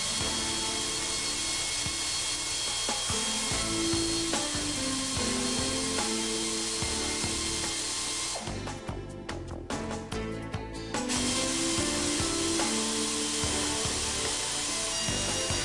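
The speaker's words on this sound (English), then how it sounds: "Simply turn the forcing screw with a hand or impact wrench and the cotter pin is instantly sheared" Metal tool noise from a Tiger Tool brake clevis pin press as a hand or impact wrench turns the forcing screw, a sustained grinding, whirring run with a brief harsher burst midway.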